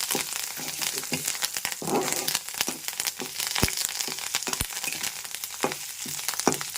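Spices, including ajwain and curry leaves, crackle and sputter in hot oil for tempering, with sharp popping bursts over a steady sizzle and occasional stirring scrapes.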